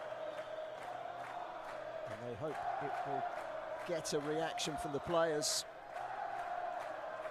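A home crowd at an AFC Champions League Two football match between Al Zawraa and Al Wasl roars and chants as a steady wash of noise, with excited shouts rising above it and a commentator speaking over it.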